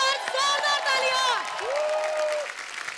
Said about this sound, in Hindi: यार एक बार जोरदार तालियां